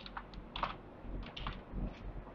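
Someone types a password on a computer keyboard, with quick, fairly quiet, irregular keystrokes in short bursts and no talking.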